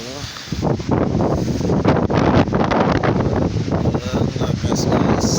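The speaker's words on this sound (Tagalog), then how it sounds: "Ang lakas guys, bagyo talaga." Strong wind from Typhoon Rolly buffets the microphone in a loud, continuous roar that thrashes the surrounding trees, with a voice partly buried under the blast.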